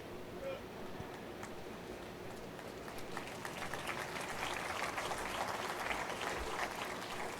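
Audience applause at a political event rises gradually from a murmur into steady, moderately loud clapping from a crowd, mixed with faint voices.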